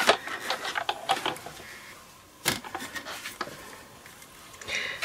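A hand-cranked die-cutting machine for card making, with a cutting plate sandwich being fed through its rollers, gives close, dry clicks, taps and rattling mechanical bursts in an irregular rhythm, with brief pauses between them.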